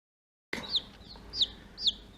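Day-old baby chicks give high, thin peeps in three evenly spaced bursts, close and clear over a quiet hiss after a short silent start.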